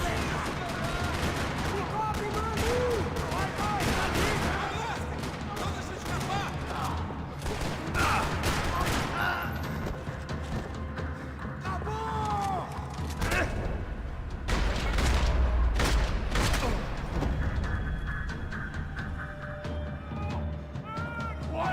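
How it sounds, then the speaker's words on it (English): Dense gunfire rattles through a parking lot shootout in the video game Max Payne 3, bursts and single shots overlapping with mechanical clatter, loud and continuous throughout, with occasional voices beneath the fighting. "Another parking lot rattling with gunfire."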